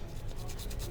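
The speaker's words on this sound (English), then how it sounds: "scrub them off with a brush" Stiff brush scrubbing small Extar EP9 pistol parts wet with cleaning solution: a steady, close rasping rub that keeps going without a break for the whole second.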